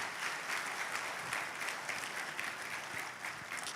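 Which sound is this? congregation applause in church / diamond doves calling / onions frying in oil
congregation applause in church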